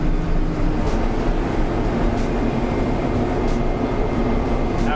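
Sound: military truck turbo whistling while driving

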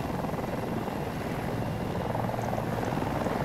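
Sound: helicopter in the video game Battlefield 2042

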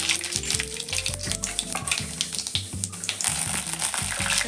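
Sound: mustard seeds and cumin sizzling in hot oil

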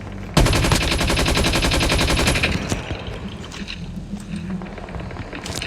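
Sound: gunfire in Call of Duty Mobile video game

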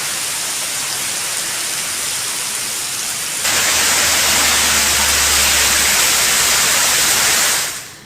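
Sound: heavy rain

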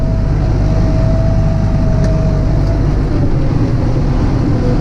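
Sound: tractor engine running

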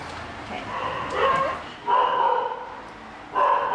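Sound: dog barking in the background

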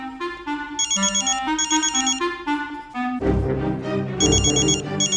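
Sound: telephone ringing

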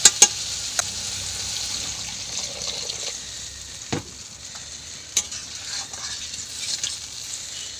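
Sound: water poured into frying tomato spice masala

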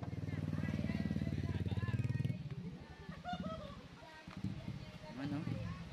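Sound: motorcycle passing by near hanging bridge

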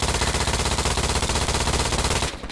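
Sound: teammate's gunfire in Hell Let Loose video game

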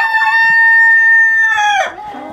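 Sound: guinea fowl calling

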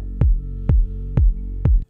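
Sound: deep house pad with kick and bass

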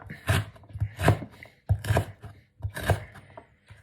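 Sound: chopping food with knife

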